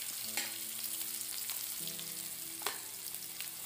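Finely sliced onions and nuts sizzle and fry in hot oil in a pan for a fried rice made from leftover rice, a steady close crackle with a few stirring clinks, no voices.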